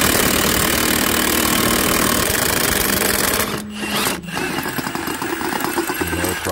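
A Milwaukee Fuel 1/2 inch high torque impact wrench hammers loudly and continuously at rusted nuts, a dense rattling drone that cuts out briefly for a moment, then resumes in rougher bursts.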